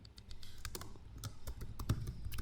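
Typing on a computer keyboard while entering a retailer ledger in accounting software: a steady run of light, quick key taps at close range, fairly quiet, with a low background hum.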